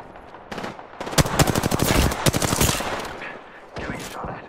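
Rapid automatic gunfire in a first-person shooter match, bursts of closely spaced shots crackling loud and near for several seconds, with a brief lull before another burst.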